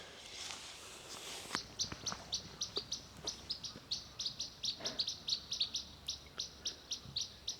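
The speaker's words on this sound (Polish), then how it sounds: "Ptaszki ewidentnie pilnują rejon." Birds chirp in a quick, regular series of sharp tweets nearby, with a few soft footsteps or taps underneath.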